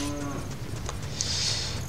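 A cow moos in the video game Zelda Ocarina of Time, a steady, fairly loud in-game bellow lasting about two seconds over faint background game ambience, with no talk.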